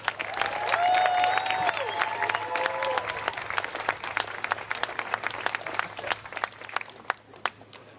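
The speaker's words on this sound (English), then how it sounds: "please give a round of applause for Pete Dietz" A crowd at a campaign rally in Kenosha applauds for Pete Dietz, dense clapping with cheers and whoops early on that thins to scattered individual claps toward the end.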